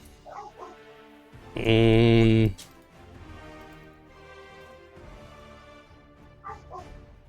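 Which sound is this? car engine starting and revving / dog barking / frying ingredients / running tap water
dog barking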